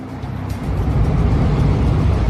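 A car engine rumbles low and steady, swelling louder after the first half-second and holding a dense, continuous drone with no voices.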